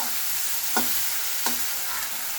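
Onions fry steadily in a pan with a constant sizzle, while a utensil stirs them in two distinct scraping strokes and a lighter third, close and clear with no talk.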